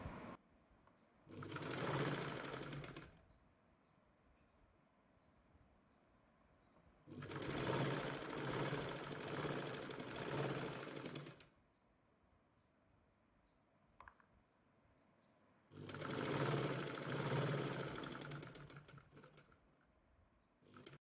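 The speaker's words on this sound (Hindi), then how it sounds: "हमारे प्लाजो के फ्रंट पार्ट के आसन की स्टिचिंग हो गई है।" A sewing machine stitches a seam on loose palazzo pants in three separate bursts of fast, buzzing rattle, each a few seconds long, with quiet pauses between them.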